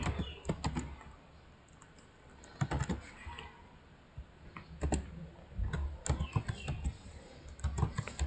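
Someone types on a computer keyboard nearby, quiet and close, with uneven clusters of key clicks and short pauses between them.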